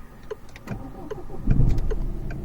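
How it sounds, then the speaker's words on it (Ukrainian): A Peugeot car engine starts after a few light clicks and knocks, the starter catching and settling into a low idle rumble close by. "Тобто ми виходимо, заводимо двигун,"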